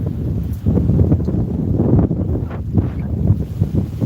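Strong wind blows on Oneida Lake on a winter morning, a loud continuous rushing and buffeting against the microphone with a low rumble, no talk, steady throughout.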